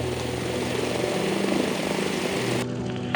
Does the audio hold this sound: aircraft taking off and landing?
yes